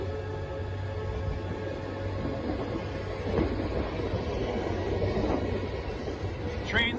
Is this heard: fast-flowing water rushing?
no